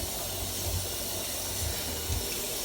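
Water runs from a kitchen tap while dishes are washed during vegan spaghetti cooking, a steady, faint hissing rush with soft low thumps underneath.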